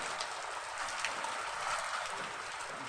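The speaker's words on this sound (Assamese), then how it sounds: "ইমানে বৰষুণ" Steady rain falling, a dense continuous hiss with scattered drop patter, close and even throughout, with no voices.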